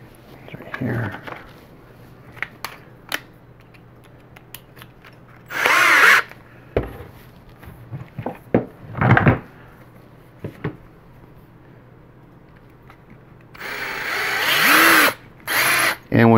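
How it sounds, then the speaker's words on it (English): Power drill boring a 5/32-inch hole in resin with a sharp bit, heard in several short loud bursts with quieter gaps and faint handling noise between them. "So now what I'm going to do is I'm going to drill my 5/32 hole, which is the size of the pin I'm going to use."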